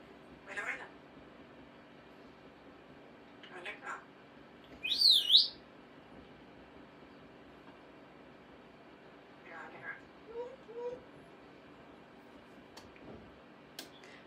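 A parrot makes a few scattered calls and whistles, including one bright warbling whistle, separated by stretches of quiet room tone.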